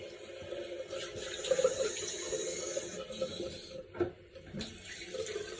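Steady running water from a tap, a broad continuous hiss with brief splashy interruptions, close by and fairly loud.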